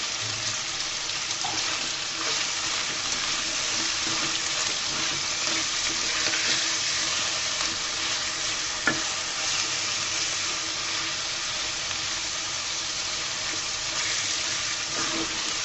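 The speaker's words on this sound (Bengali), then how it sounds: "এরপর এগুলাকে আমি সুন্দর করে তেলের মধ্যে পাঁচ মিনিট ভেজে নেব উল্টিয়ে পাল্টিয়ে ভেজে নেব" Chicken pieces frying in oil in a Bangladeshi kitchen, a steady dense sizzle lasting throughout with faint scrapes of stirring and turning, no voices.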